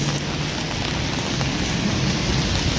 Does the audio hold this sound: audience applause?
no